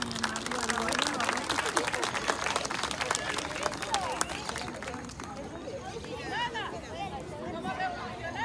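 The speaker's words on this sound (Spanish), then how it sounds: "¡Fuerte el aplauso!" An audience at a kindergarten Revolution celebration applauds as a children's rhythmic routine is introduced. Brisk clapping mixes with crowd chatter and voices, then thins into murmuring toward the end.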